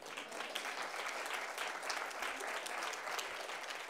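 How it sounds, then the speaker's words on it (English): At a business conference opening keynote, the audience gives a steady, moderately distant crowd applause, an even roar of many clapping hands lasting about four seconds without speech. "of course, an applause."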